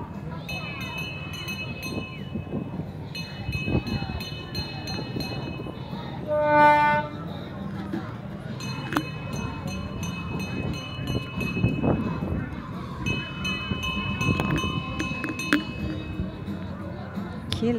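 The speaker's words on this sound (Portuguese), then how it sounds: "Agora vou mostrar o trenzinho chegando." A mini tourist train pulls in on a street in Porto Seguro, Brazil, with a clear horn-like tonal blast midway and steady rolling, clinking sounds under ambient street noise and intermittent talking.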